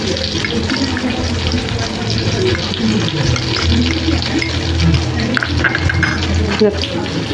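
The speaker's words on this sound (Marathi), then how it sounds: "इथं बेसनमध्ये आपण हे पाणी टाकून घेतो।" Water runs and splashes steadily into a bowl of gram flour, a continuous close pouring sound with some background rumble and a voice faintly beneath.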